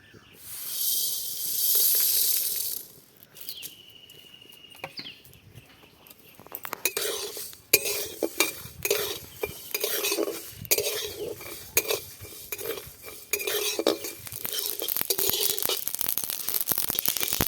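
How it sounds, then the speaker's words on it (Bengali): Ajwain, black cumin, fennel and dried chillies dry roast in a hot pan for raw mango pickle masala, with a faint hiss early on and then repeated clinking, scraping stirs of a utensil against the metal. "কড়া গরম হয়ে গিয়েছে এবার আমি সব মশলাগুলোকে ভেজে নেব"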